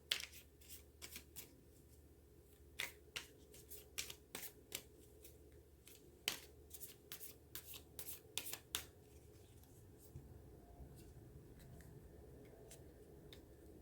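Tarot cards drawn and shuffled close by: a run of crisp flicks, snaps and riffles at an uneven pace, then quiet soft rubbing as the handling slows.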